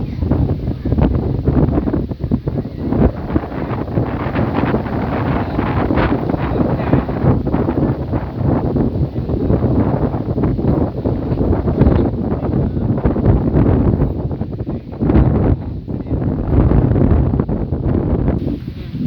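Wind blows steadily around a banyan tree beside the Ayyanar temple in Karisalkulam village, producing a loud, continuous rumbling gust noise on the microphone for the whole stretch with slight rustling and no clear talk.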